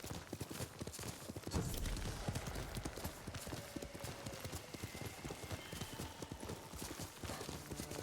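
Horse hooves gallop in a rapid, steady rhythm in the video game Ghost of Tsushima, with a heavier thud near the start as the horse lands, under a constant wash of game noise.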